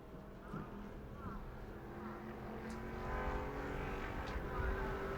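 A Bomber B class race car runs a qualifying lap at New Smyrna Speedway, its engine droning steadily in the distance as a commentator talks over it.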